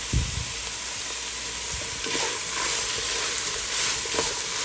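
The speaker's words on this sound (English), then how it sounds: "you're just going to stir that up until the onion starts cooking down" Carrots, celery and onions sizzling and frying in a soup pot while being stirred, a steady bright hiss with occasional scraping stir strokes, close and without talk.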